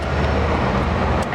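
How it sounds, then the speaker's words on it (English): Continuous road traffic noise at an intersection, a steady broadband roar of passing cars and vehicles, fairly loud and close, with no talking. "I apologize for the noise, but we're right here by the intersection"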